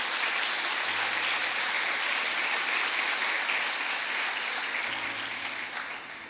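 Worshippers in a church applauding the Lord, dense continuous clapping from a large congregation, loud and even, with faint low keyboard notes underneath and a slight fade at the end.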